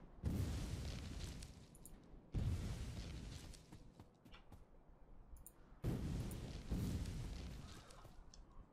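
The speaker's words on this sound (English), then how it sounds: "This is the area that I can throw grenades." Grenades blasting trees in the game Factorio: three booming explosions a few seconds apart, each starting sharply and rumbling off as crackling debris settles.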